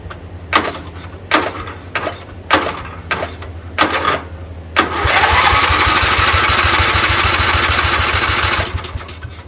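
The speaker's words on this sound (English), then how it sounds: "Just gonna see if it cranks and turns over." An 11hp Briggs & Stratton flathead engine swapped into an old hauler is tested. Several sharp clicks sound at first, then about four seconds of loud, rapid, rhythmic cranking chug before it cuts off.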